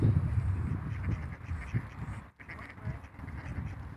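Domestic ducks quack in a noisy cluster close by, repeated overlapping calls throughout with a brief lull near the middle before the quacking resumes.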